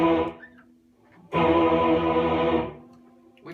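An Electro-Harmonix Mel9 Mellotron pedal produces a choir voice on E in octaves, one short swell then a longer sustained chord that fades, with breathy upper harmonics and no talking.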